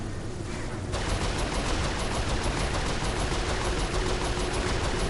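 Turret gunfire in Saints Row IV aboard a ship under pursuit, a dense, continuous roaring stream of rapid automatic fire, loud and close, swelling after the first second.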